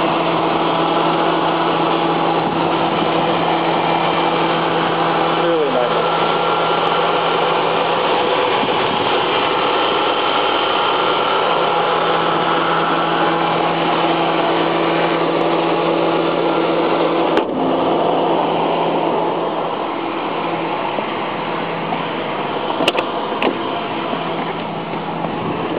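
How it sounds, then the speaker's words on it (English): A clean 1995 Mercury Grand Marquis LS with a single-overhead-cam V8 idles steadily nearby, giving a smooth, constant hum with a faint underlying drone throughout. "Beautifully clean engine. The V8 engine. Single overhead cam."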